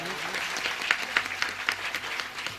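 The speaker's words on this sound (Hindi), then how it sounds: "ताली बजा दीजिए" Audience applause during a live Hindi Ram katha storytelling gathering as the deity departs, steady clapping with a few louder bursts, moderately close throughout.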